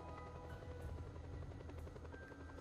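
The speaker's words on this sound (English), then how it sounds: "Still a very quick helicopter." A helicopter flies in the open-world video game Just Cause 2, its rotor and turbine making a steady, even whine and drone with a low thrumming pulse, continuous and fairly close, with no talking.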